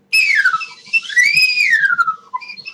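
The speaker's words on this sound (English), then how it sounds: "here's the upside down slide whistle." Slide whistle played upside down, a single close, loud tone gliding up and down in pitch over a few seconds, falling at the end, with no talking.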